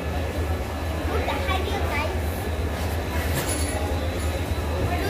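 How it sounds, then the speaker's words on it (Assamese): Station ambience at Rangia railway station near Guwahati: a steady low rumble of trains and platform noise with faint clinks, while people talk in the background. "আমি এতিয়া গুৱাহাটী ৰঙিয়া ষ্টেচনত আছোঁ"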